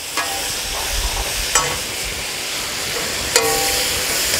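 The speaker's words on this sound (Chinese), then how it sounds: "高度白酒从锅边淋入" High-proof baijiu poured down the side of a hot wok holding ginger, garlic and fermented black beans, giving a continuous close sizzle with a few sharp clicks.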